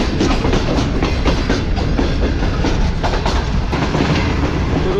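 The Tezgam express, hauled by locomotive GU4945, runs at speed on the main line toward Lahore, wheels clattering in quick repeated clicks over rail joints beneath a loud steady rumble, heard from on board with no talk.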